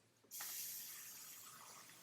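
Water suddenly gushes and hisses into a plastic bag, a steady rushing pour that continues close by after a soft rustle.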